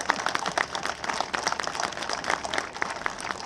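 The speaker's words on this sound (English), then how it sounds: "a big round of applause for Paul Vallone and the organizers of this event" Applause from an audience at a Second Amendment speech, dense steady clapping filling the room for several seconds with no voices over it.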